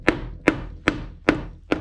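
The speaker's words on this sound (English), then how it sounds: "Another thing you could do is actually use a hammer" A hammer taps a drywall screw into drywall with five sharp, evenly spaced knocks about every 0.4 seconds, close and dry with no voices.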